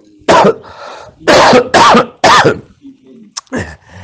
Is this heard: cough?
yes